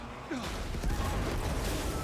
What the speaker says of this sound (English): look at that explosion and not even a hiccup in the frame time